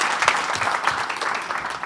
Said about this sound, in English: give a round of applause for Rama